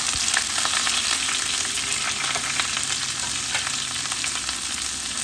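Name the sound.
potatoes frying in a pan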